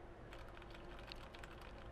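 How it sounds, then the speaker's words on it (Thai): Computer keyboard typing during a game of Apex Legends, captured faintly through a Xanova Juturna-U gaming headset microphone, a soft continuous patter of key clicks under a steady hiss, with no talking. "เล่นเกมไปด้วยมันจะมีเสียงคีย์บอร์ดเข้ามากน้อยแค่ไหน"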